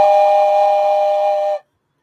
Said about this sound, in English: A train whistle.